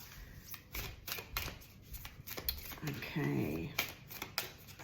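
Oracle cards shuffled by hand before a reading, a steady papery riffle and slide of the deck running under a speaking voice.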